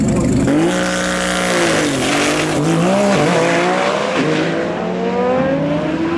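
A roughly 3500-horsepower Nissan GT-R unlimited-class drag car with top-mounted turbos roars loudly at a TX2K drag strip, its engine note rising and falling with revving and tire chirps, while an announcer talks over it.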